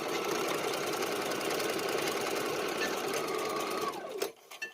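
A sewing machine runs a zigzag stitch through cotton fabric, a steady fast mechanical whir and rattle that continues nearly four seconds before winding down and stopping.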